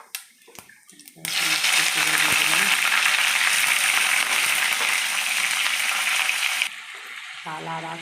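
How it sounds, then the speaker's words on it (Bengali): Whole spices, bay leaf and cumin seeds, hit hot oil in a pan while cooking goat curry, bursting into a loud, steady sizzle after a second of quiet that holds for several seconds before easing to a softer crackle. "আমার তেল গরম হয়ে গেছে, তেজপাতা দিলাম, সাদা জিরে ফোড়ন দিলাম"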